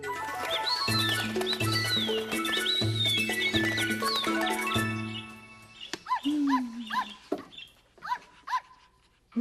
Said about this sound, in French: Mais c'est Chonchon qui jappe comme ça.